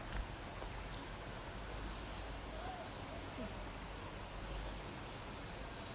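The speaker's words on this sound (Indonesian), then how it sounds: "Jadi suara sungainya bagus. Jadi airnya mengalir ya, bukan air tampungan." A river flows right beside a house in Denpasar, Bali, giving a soft, steady broadband rush of running water that stays faint and even throughout, with no voices over it.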